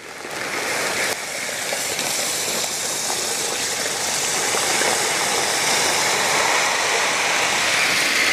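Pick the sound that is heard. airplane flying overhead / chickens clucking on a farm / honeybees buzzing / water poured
water poured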